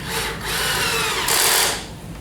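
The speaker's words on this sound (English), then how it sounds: "Now the stainless steel screws after countersinking." A power drill drives stainless steel screws into countersunk, pre-drilled holes on a wooden toboggan, giving a close, continuous whine with a brief dip and a louder rise near the end.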